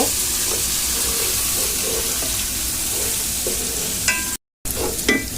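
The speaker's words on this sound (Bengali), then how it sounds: "আধা চামচ জিরা বাটা জিরা গুঁড়ো মশলাটা ভালোভাবে কষাই নেব" Turmeric and cumin spice paste frying in a pan for a Bengali tilapia and green banana curry, a steady close sizzle with scraping stirs and a brief dropout near the end.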